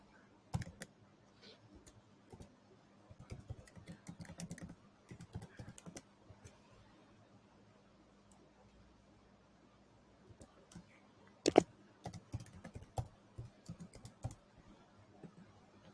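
Typing on a computer keyboard: faint, quick bursts of key clicks come in scattered runs separated by quiet pauses, with one louder clack partway through.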